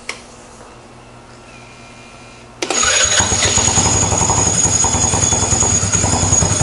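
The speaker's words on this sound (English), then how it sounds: "So this is like a dry motorcycle clutch. They tend to chatter like this." Scooter fitted with a Reveno dry clutch starts up with a sharp burst, then runs loud and close with a rough, chattering rattle over the engine note; no one talks.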